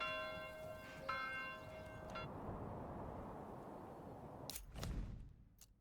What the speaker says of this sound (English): Why are the bells tolling?